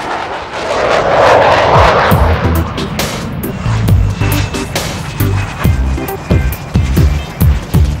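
Loud, continuous jet roar from a fighter aircraft flight simulator, a broad rushing drone with rhythmic low thumps and clicks layered over it throughout.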